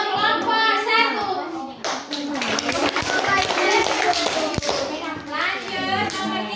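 A group of children applauds for the first group in a classroom, a dense spell of steady clapping with scattered taps, and young voices chatter and call out throughout.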